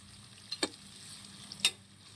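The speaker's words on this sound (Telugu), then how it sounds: "ఆనియన్స్ కానీ వేసేసాము, బాగా ఫ్రై చేయాలి." Onions frying in a pan for potato curry, a soft low sizzle broken by two quick scraping stirs, faint and close, with no speech.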